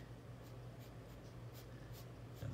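A graphite pencil drawing lines on paper, its faint scratchy strokes coming in several short repeated passes over a steady low background hum.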